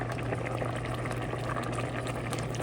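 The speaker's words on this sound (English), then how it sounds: "I'm just gonna keep stirring it a bit so that it doesn't stick to the bottom of the pot." Spaghetti stirs in a pot of boiling water, a steady close bubbling roil with soft sloshing and no voices.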